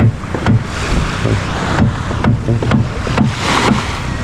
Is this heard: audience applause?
no